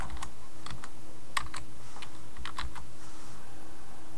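Typing on a computer keyboard while coding a website's HTML and CSS, a close series of light irregular key clicks in short bursts over a steady low room hum.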